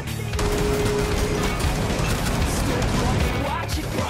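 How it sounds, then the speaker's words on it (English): Gunfire in a Rainbow Six Siege match, a dense, loud wash of shots and bursts running almost continuously from the opening moment, with speech blended into the din. "I shot the gun by accident."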